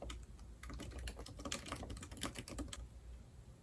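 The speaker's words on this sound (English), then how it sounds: "I'm actually typing" Rapid, uneven keystrokes on a laptop keyboard, close and moderately loud, with irregular bursts of clicks and no speech over them.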